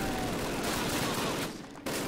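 Rapid machine gun fire from enemy machine gunners in the video game Call of Duty forms a dense, loud, continuous rattle that briefly dips near the end before resuming.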